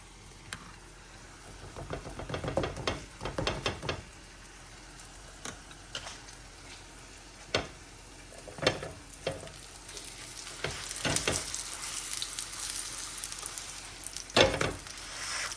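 A paratha fries in ghee in a pan, giving an irregular sizzle with sharp crackling bursts and spatters over a steady low hiss, close up and with no talking.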